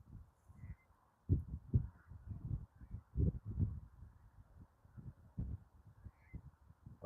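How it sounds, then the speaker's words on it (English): Magpie calling outdoors, a series of harsh rattling chatters repeated in irregular bursts, moderately close, with no talk over it. "The magpie. What's wrong with it?"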